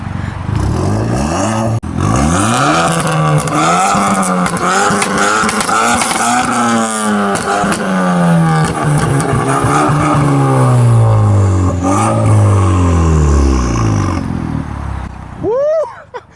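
A loud tuned Skoda car engine revs hard and repeatedly, pitch sweeping up and down in long roaring pulls, close by, before cutting off near the end.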